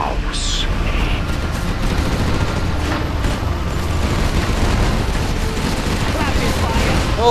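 Dense, continuous rumbling booms and bursts of gunfire from a video game battle crowd together loudly, a chaotic battle din with no pauses.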